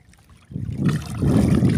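Calm sea water gurgles and laps around a small boat on an overcast day, close and soft, swelling after a brief quiet start.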